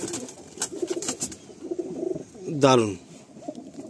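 Kalshira pigeons at a loft coo, one clear rolling coo rising above scattered soft sounds and people talking close by.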